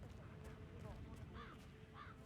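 Crows cawing from a tree in the Hitman 3 video game, a few short harsh calls over a steady low ambient hum.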